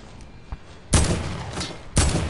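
Gunshots in a first-person shooter video game, two sharp loud blasts about a second apart, each trailing into a brief echoing decay, with a faint shot before them.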